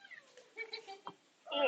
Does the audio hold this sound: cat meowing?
yes